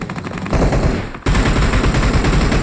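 Loud, close automatic gunfire in the video game PUBG, a rapid continuous burst with a brief break midway before it resumes at full intensity.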